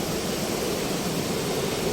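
Steady, dense roar of rushing water with no break or rhythm, like a strong flood current running close by, at the Aruvikkarai waterfall in flood.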